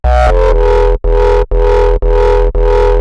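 Heavily distorted FM synth bass from the Surge synthesizer, bright and raspy, hammers out a run of sustained notes with sharp breaks between them, loud and without talk.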